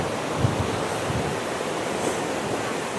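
Heavy monsoon-swollen Changey waterfall at Kolakham roars in a dense, continuous wash of rushing water close by, steady and loud with no talk.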